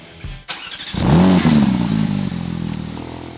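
Porsche GT3 engine cranking over after a brief clatter, catching with a loud rising flare of revs, then settling into a rough, throbbing idle close by.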